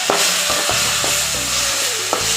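Ginger garlic paste frying in oil with sautéed onions for a mushroom gravy makes a loud, close, continuous sizzle, broken by a few scraping stirs of a spoon against the pan.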